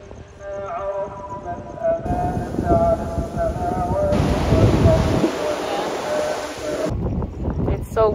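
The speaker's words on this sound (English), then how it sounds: "It's so windy, bro." Strong wind gusts roar across the microphone outdoors in Dubai, a steady broadband rumble through the whole stretch with voices faintly underneath.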